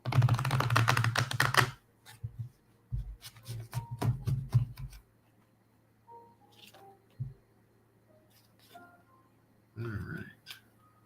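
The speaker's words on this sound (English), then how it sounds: "let me shuffle" A deck of tarot-style reading cards is shuffled in quick bursts of riffling and tapping, loudest at the start and then scattered short clicks, with a voice speaking between them.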